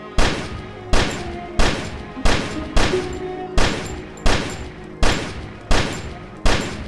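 Gunshots in the video game Only If, ten evenly spaced loud bangs each with a short decaying tail, repeating about every 0.7 seconds over a steady background.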